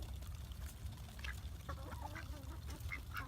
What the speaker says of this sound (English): We got 2 ducks and a couple dozen chickens.